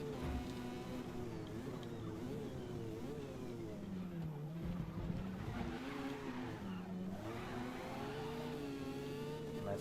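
A Mazda RX-7 races in Forza Motorsport, its engine a continuous, moderately loud whine rising and falling through gear changes, with brief dips where it lifts off for corners.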